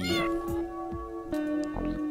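A kitten in the video game Minecraft gives a few short, clear meows over a steady tonal drone, with a longer meow near the end.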